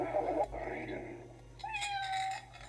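A cat meowing sound font plays from a Proffieboard neopixel lightsaber, with one clear, rising-and-falling meow ringing out alone near the end of the short clip after some background sound.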